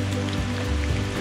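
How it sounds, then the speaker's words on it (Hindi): Heavy rain in Bondla wildlife sanctuary in Goa, a dense steady patter with a low rumble underneath, brief and without speech. "बारिश लगातार हो रही है"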